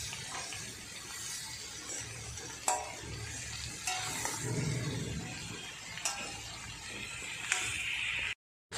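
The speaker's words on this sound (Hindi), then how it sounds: "सब्जी को मैंने अच्छे से चला लिया।" Ridge gourd sabzi stirred in a pan, a steady frying sizzle under repeated scraping strokes of the spoon, with a few sharper clinks against the metal, close and fairly loud, no talk.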